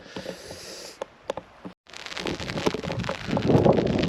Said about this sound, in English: the rain is starting to come down pretty heavy now